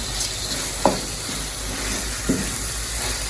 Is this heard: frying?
yes